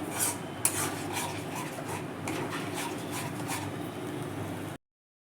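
Cashew and melon seed paste is stir-fried in oil for doi potol, with a steady scraping and sizzling of a spoon against the pan that runs continuously and then cuts off abruptly.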